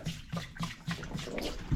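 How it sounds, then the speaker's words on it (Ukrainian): Water poured from a large 10-litre bottle splashes and runs across the ground beside a garage, a steady close trickle with gurgling pulses. "Так, в прямому ефірі виливаю воду і дивимося, куди вона потече."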